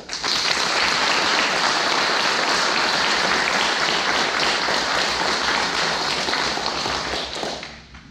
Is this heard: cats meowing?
no